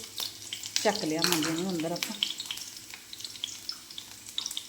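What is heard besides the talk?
tempering (tadka) sizzling in hot oil with garlic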